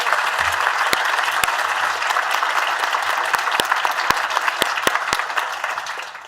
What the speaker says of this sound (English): let's give a round of applause to our two.